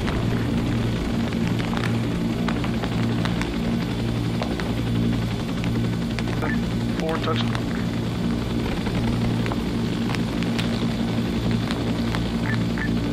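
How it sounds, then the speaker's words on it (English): Military helicopters set down one after another in a video game, their steady rotor and engine drone filling the whole stretch beneath radio-style chatter and callouts. "This chopper is touching down."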